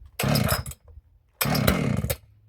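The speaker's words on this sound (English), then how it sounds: "This will be the first time starting it, so cold start here." A Stihl-style chainsaw being cold started: two long rasping bursts of the pull cord and sputtering engine, close and loud, separated by a brief quiet gap.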